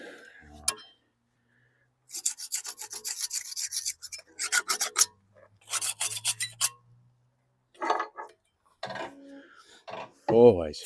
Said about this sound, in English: If you can feel any burrs around the bolt holes or anything, especially after a big impact like that, just touch them up with a file